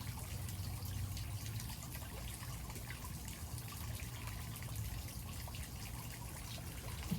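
Water mixed with pond treatment chemical is poured into a bucket, a faint steady trickling and splashing stream that continues evenly throughout, with no talking.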